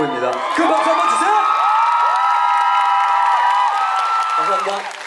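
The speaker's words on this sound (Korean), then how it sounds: "큰 박수 한번 주세요." An audience at a musical gala concert in Seoul's Daehakro bursts into loud applause, with shrill cheers and whoops rising over the clapping. The sound holds strong for several seconds and then fades slightly.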